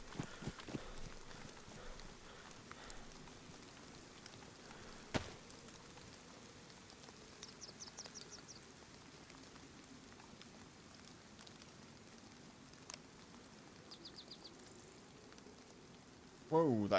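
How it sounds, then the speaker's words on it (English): Steady rain falls across Chernarus in the video game DayZ, a faint, even patter filling the whole stretch, with a few sharp distant cracks and brief chirps breaking through now and then. "It's so hard to tell with the rain."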